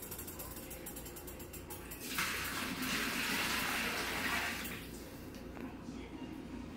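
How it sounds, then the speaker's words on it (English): Water from cooked noodles poured out of a pot into a sink, a rushing splash of about two seconds standing out over faint background noise. "I'm just going to put the noodles in here for now and dump all this water out"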